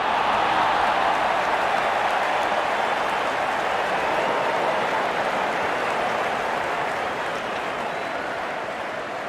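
Cricket crowd applauding in a dense, steady wash of clapping and cheering that holds throughout at even volume, fading slightly toward the end.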